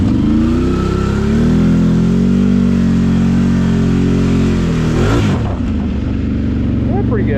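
A 2021 Can-Am Outlander 850 XMR ATV engine droning loud and close at steady high revs as it pushes through deep water, then the pitch drops and wavers as it eases off, with a voice speaking over it.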